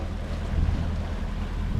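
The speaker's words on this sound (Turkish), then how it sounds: "Şu an motor anayken gidiyor." A steady low engine drone mixed with wind and water rush from a sailboat under engine power, continuous and fairly loud, no voices.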